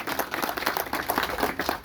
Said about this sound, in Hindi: इनके लिए जोरदार तालियां बजाकर हम इसका धन्यवाद करेंगे